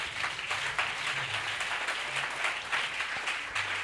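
A congregation applauds in praise of the Lord at a church gathering, a steady wash of many hands clapping with no voices standing out.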